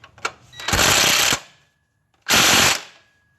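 A pneumatic impact tool rattles in two loud, close bursts of about a second each, separated by a short pause, while removing a bracket from the 3.3L VG33 V6 of a 2000 Nissan Frontier.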